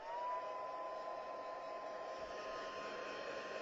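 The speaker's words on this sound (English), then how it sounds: "I might just throw some heat on them real quick and finish drying them" A heat embossing tool blows steadily over freshly made embossing dots, a constant close whirring rush of hot air that holds at an even level throughout.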